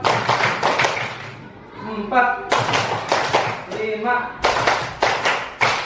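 A classroom group claps in a counted rhythm, with bursts of brisk, loud claps alternating with a voice calling out the count, during a lesson on the rules of prayer.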